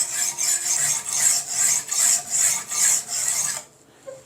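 A ceramic single-bevel yanagi deba blade is stroked across a 120 grit stone in about seven even rasping passes, close and loud, before the scraping stops and it goes quiet.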